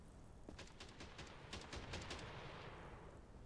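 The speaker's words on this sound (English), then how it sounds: "don't mind the sounds of gunfire, the sounds of presumably zombies getting murked" Rapid bursts of gunfire in the video game Quarantine Zone: The Last Check, a steady crackle of repeated shots at moderate distance running through the whole stretch with no talk.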